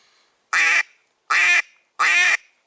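A duck call lure blown to imitate a duck gives three loud, evenly spaced quacks, each nasal and clipped, heard close with silence between them.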